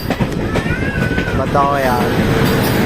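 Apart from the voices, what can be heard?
passenger train overtaking Jan Shatabdi Express train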